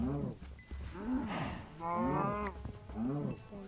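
Cows low in a video game, several drawn-out moos following one another with short gaps, fairly clear and close, with no talking.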